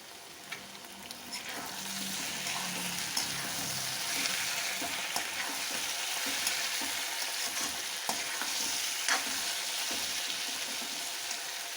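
Onions and tomatoes fry in a pan for baingan bharta, giving a continuous close sizzle with occasional scraping stirs and soft clicks, steady in level from start to finish.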